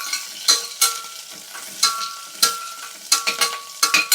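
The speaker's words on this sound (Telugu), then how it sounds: "కరివేపాకు, ఒక 2 సెకండ్స్ వేగాలంతే" Curry leaves fry in hot ghee for a pappu rice tempering, giving a continuous close sizzle. Sharp bursts of spitting and stirring clatter recur every half second or so.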